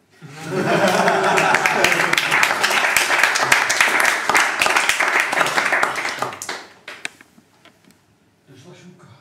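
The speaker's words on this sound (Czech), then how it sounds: "Teď je čas na potlesk." An audience claps at the close of a talk in Prague. The dense, steady applause lasts about six seconds, then fades out, followed by faint murmuring.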